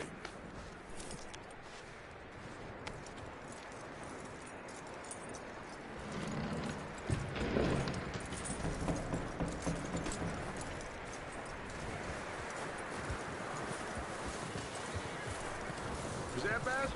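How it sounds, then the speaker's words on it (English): A horse clip-clops along in Red Dead Redemption 2, its hooves a steady, faint rhythm under game ambience, with voices talking over it. "That looks like a decent horse."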